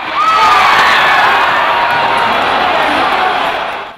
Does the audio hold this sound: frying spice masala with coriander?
no